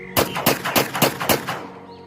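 Gunfire in a jungle-set audio drama: a rapid burst of about seven loud, sharp shots in quick succession with a short tail, and no voices.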